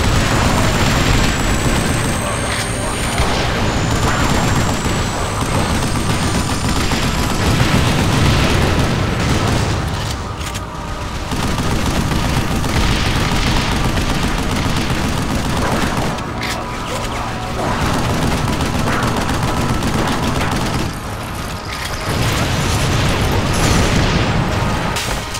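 Sustained gunfire and heavy explosions from Vanquish, a loud dense barrage of booms and bursts running almost continuously, with brief lulls between volleys.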